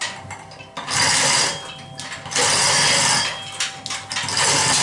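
An engine hoist lowers a motor into a drag car in a shop, with loud repeated ratcheting and mechanical clanking in several bursts close by, no talking.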